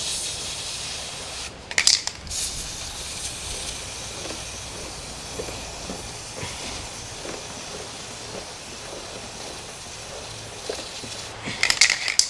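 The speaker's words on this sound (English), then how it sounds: "Just going to use some Penrite chain lube." Penrite chain lube sprays onto a pit bike chain in two short, close hissing bursts, one near the start and another near the end, with quiet handling noise in between and no talking.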